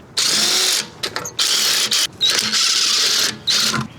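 A ratchet clicks in quick bursts close up while loosening the lug nuts on the passenger rear wheel of a BMW E46, five or six rapid runs separated by short pauses.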